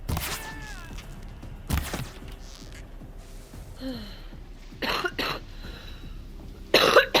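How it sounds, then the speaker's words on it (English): A few short, sharp coughs break out at intervals close by, with quieter background noise and faint thuds between them, over gameplay of Horizon Zero Dawn. "I had an unexpected cough"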